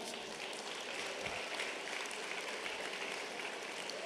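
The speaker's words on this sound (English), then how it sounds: "Okay, clap." An audience claps together in unison, a dense and even wash of applause heard at a distance and fairly quiet throughout.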